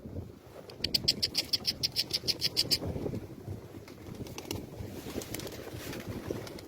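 Pigeons being hand-fed with bird feed, a quick run of rhythmic cooing and flutter sounds close by, then softer rustling and faint scattered calls.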